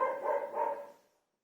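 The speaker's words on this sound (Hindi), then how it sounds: "यहाँ बगल में कुत्ता लोग भौंक रहा है" A single nearby dog bark stretches into a short howling yelp, then fades to silence.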